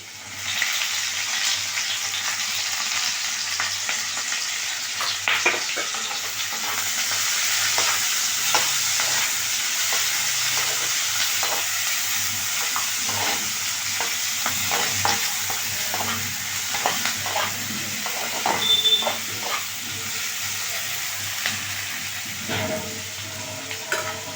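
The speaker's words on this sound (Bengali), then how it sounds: "পেঁয়াজটা ভাজা ভাজা হয়েছে" Onions with garlic and chopped chilli frying in a pan for a dried-fish curry, giving a steady close sizzle with scraping stirs and occasional utensil knocks throughout, and no talking.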